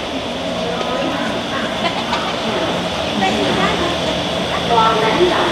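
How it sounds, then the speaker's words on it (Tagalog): A Taipei metro train pulls into a station with a broad rumbling roar that swells toward the end, mixed with station noise and heard alongside people talking. "Ayan, andyan na yung tren."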